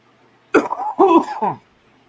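A person coughs twice in quick succession, harsh and close, followed by a shorter third cough, then quiet.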